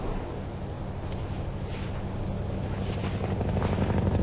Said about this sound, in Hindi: हेलीकॉप्टर की आवाज है